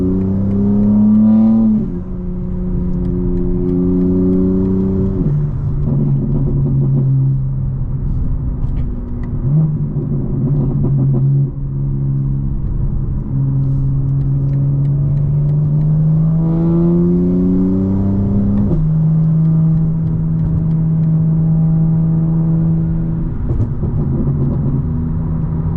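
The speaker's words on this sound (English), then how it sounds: "you can short shift the car, so you can shift it at a lower RPM" A 2025 BMW M4 Competition xDrive accelerates hard through the gears at night, its engine note climbing in pitch, dropping at each upshift and climbing again, with a steady loud rumble and no talking.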